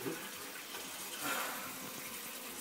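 Water runs in a steady, moderately quiet stream as some is poured out. The hiss swells briefly midway and continues without talk.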